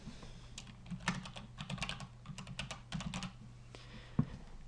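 Fingers type a group name on a keyboard in a steady run of quick, light clicks with a few brief pauses and one sharper tap near the end, close and alone with no talk.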